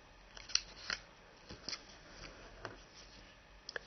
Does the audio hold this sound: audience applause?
no